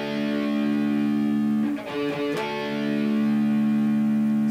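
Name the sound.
distorted electric guitar chords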